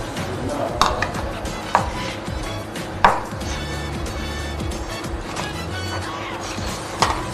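Knife chopping onion on a board for a salad, a few sharp distinct chops spaced out over a steady background hum and faint kitchen noise.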